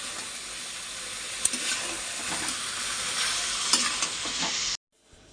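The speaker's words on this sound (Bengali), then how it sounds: "চলো কষিয়ে নিই, কষিয়ে তারপরে ঝোল দেওয়া হবে।" Meat curry being stirred and fried in a pan, a steady loud sizzle with scraping spoon strokes throughout, close up, cutting off abruptly near the end.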